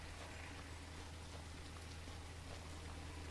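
Steady, dense rain falls throughout a zombie survival game world, a constant hiss of drops with a low rumbling undertone and no voices.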